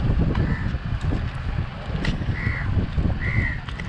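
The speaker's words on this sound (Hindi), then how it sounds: "और ये हमारा बोट राइड है।" A boat ride on Chilika lake: a steady rumble of wind and motion noise fills the clip, with a few short bird calls cutting through near the middle and end.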